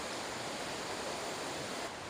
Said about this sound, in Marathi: हा जो धबधबा आहे तर खूप मोठा धबधबा आहे